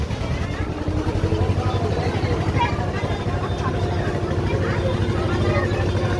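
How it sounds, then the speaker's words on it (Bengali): A boat engine drones steadily while the boat passes on the river at Triveni Sangam, between Mayapur and Nabadwip; the low motor hum stays close and continuous under a murmur of voices. "নৌকা পাশ দিয়ে একটা আসছে"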